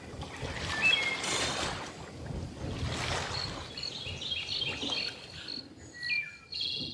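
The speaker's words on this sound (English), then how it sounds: "Sunny waves at the beach. Stream. All right. Let's add a little bit of... get some birds here." Ambient beach soundscape of steady waves and flowing water layered with chirping bird calls, played in Zorin OS; a continuous moderate wash with scattered bright tweets throughout.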